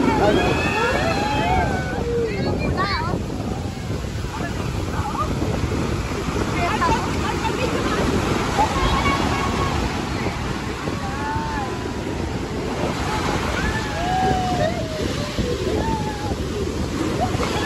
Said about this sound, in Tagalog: Lakas po ng alon talaga